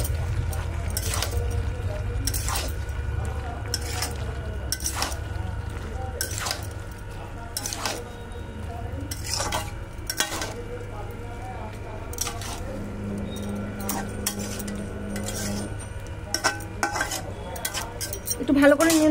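A pot of dried fish curry is stirred and mixed, with repeated metallic scrapes and clinks of a spoon against the pot in a regular rhythm over a low cooking hum, and a voice talks at times.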